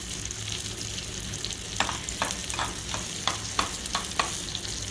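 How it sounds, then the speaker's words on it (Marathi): Onion frying in hot oil for mutton biryani, a soft continuous sizzle under a series of regular scraping stir strokes, close but fairly quiet, with no voices. "आपला कांदा आता चांगला तळला जात आहे"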